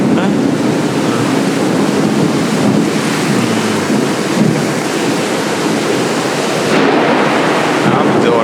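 Heavy rain pours down in a dense, steady roar with gusty wind buffeting the microphone, loud and continuous throughout.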